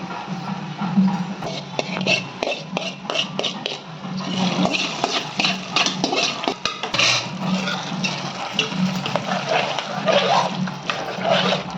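Spices tempering in hot oil in a pan for ven pongal, a steady dense sizzle and crackle with spoon scrapes throughout, loud and close, with a voice briefly audible.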